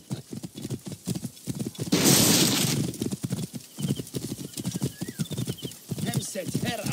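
A horse in an Assassin's Creed Origins race gallops with rapid clip-clop hoofbeats, and a loud neigh rises over the pounding, while voices talk throughout.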